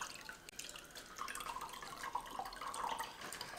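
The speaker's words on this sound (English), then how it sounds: "I'm going to squeeze this water." Water squeezed from a ShamWow absorbent cloth drips and trickles into a container, a steady run of small splashes and patters close by with no talk.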